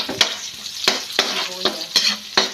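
Sliced onions fry in hot oil in a pan for a Filipino shell-snail sauté, a bright close sizzle punctuated by about six sharp spatula scrapes and taps at an uneven pace, with no speech.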